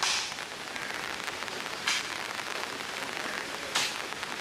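Heavy rain pours steadily onto a kitchen garden, a dense, even hiss with a couple of brief louder gusts and no voices.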